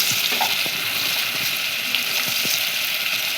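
Onions with curry leaves frying in a pan, a bright continuous sizzle with a few sharp spatula clicks and scrapes, close up with no voice.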